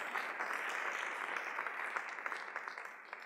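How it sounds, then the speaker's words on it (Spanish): A church congregation applauds, a dense wash of many hands clapping together, loud at first and then tapering off toward the end, with no speech over it. "Denle un fuerte aplauso al Señor."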